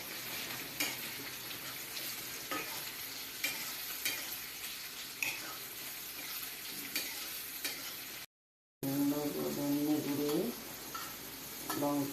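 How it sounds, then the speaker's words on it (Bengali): Cumin, whole garam masala, onion, garlic and green chilli fry in hot oil with a continuous close sizzle and scattered stirring clinks, cut by a short gap, then a voice talks over the cooking. "এখন জিরা ফোড়ন দিয়েছে তেলে, তারপর গোটা গরম মশলা, পেঁয়াজ, রসুন, কাঁচা লঙ্কা সম্বার দিয়েছে।"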